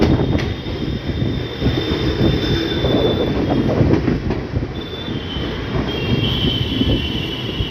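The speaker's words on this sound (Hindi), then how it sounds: "हमारी जो ट्रेन है वो थोड़ी सी स्लो हो गई है" A train on the Delhi–Lucknow main line slows as it nears Bareilly City station, its loud rumble and wheel clatter running continuously from close by, with faint squeals over the top.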